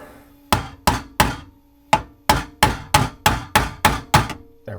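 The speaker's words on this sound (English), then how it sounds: "Now you hammer it on" Metal garbage disposal mounting ring being hammered into place under a sink: about ten sharp, ringing metallic strikes in an irregular rhythm, close and loud, with no talking.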